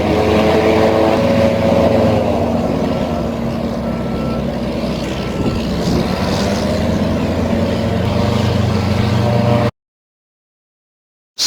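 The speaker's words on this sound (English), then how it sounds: "Hovercraft." A hovercraft runs loud and close, its engines and lift fans giving a sustained, droning roar with steady tonal whine for about ten seconds before cutting to silence.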